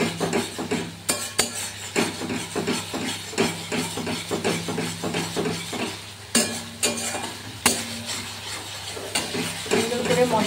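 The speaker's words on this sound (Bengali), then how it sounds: "দিয়ে আরেকটু মশলাটাকে আমি কষে নেব, যাতে পেঁয়াজের আর রসুনের আর আদার কাঁচা গন্ধটা যাতে চলে যায়।" Onion, garlic and ginger masala with a little salt and ketchup frying in a pan, a spoon scraping and clanking against metal in repeated strokes over a steady sizzle.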